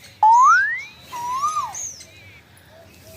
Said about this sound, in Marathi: आपली ही कोकिळा कोकिळाला पण वाटतं की माझा एक व्हिडिओ काढावा म्हणून ती बरोबर कू करते